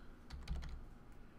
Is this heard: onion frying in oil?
no